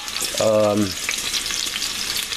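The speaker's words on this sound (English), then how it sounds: "over a large pot with some olive oil, we are going to start to cook 4 large sweet onions" Four large sweet onions frying in olive oil in a large pot, a steady close sizzle and crackle with stirring, and a brief tonal clang early on.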